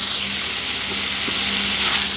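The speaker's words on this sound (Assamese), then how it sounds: "প্ৰথমে মই সবজিখিনি মছলাৰ লগত ভাজি আছো" Vegetables with spices fry in a pan for a fish curry, a loud, steady, close sizzle with a faint hum underneath and no talking.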